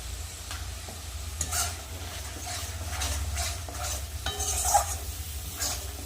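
Mixed vegetables frying in a pan with turmeric, chili and cumin powder, a steady soft sizzle with a spoon scraping and stirring in bursts, close up and with no voices.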